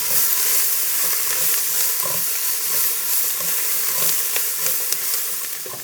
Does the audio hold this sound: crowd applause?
no